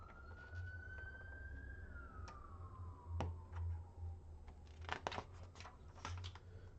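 Emergency vehicle sirens wail faintly in the distance, one tone slowly rising and then gliding down, over a low steady hum with scattered small clicks and taps nearby.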